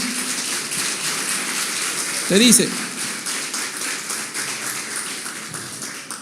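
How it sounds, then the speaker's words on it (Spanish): A church congregation claps together during a Spanish-language sermon, a steady dense patter of many hands that runs the whole time, with a brief voice breaking through near the middle. "Denle un aplauso"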